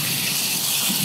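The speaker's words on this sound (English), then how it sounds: "we'll put some water in there." Steady rushing water pours continuously, a bright, hissy gush that fills the whole second without pause.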